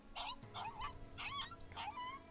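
A dog in the video game Tiny Bunny gives a series of four or five high yelps and whimpering squeals, close and moderately quiet, with nobody talking over them.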